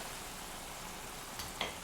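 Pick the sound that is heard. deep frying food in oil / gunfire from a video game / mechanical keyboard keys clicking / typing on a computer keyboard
deep frying food in oil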